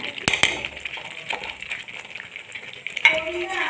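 Roasted ground fenugreek and mustard are stirred into a mango-ginger pickle. A spoon clinks and scrapes against the vessel in short, uneven strokes nearby, with faint background noise.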